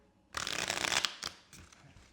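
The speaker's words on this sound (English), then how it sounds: "Next one was the Riffle Shuffle, which I think is the most skillish one of all" Playing cards are riffle shuffled up close: a quick burst of rapid flapping as the two halves interleave, then a couple of brief softer taps as the deck is squared.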